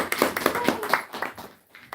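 A small class audience claps briefly, a quick scatter of hand claps in an uneven rhythm for about a second that fades out, faint and close.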